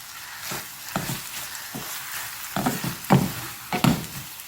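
A pan sautés ingredients with salt for a ridge gourd kulambu, a low frying sizzle under repeated scraping spatula strokes that grow louder and sharper toward the end, heard close with no talking.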